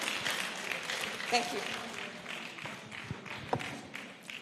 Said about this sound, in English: Keep clapping for yourselves now.